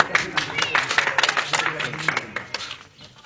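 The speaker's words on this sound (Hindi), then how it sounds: "बच्चों का जोरदार तालियां बजाने का काम करिए आप सारे।" A village crowd claps in scattered, overlapping bursts at an outdoor gathering where a guest is being honoured, with loud, uneven applause running throughout and voices mixed in.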